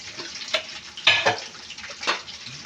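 Spices such as cumin, coriander, turmeric and chilli go into onions frying in a pan, with a steady close sizzle broken by several louder bursts of stirring and scraping.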